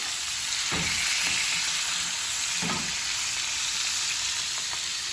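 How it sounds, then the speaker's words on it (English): Steak sizzles and fries in a pan with garlic butter, a steady loud crackle and hiss, with two brief louder bursts where juice is spooned over the meat. "Throw that juice on top as it's cooking."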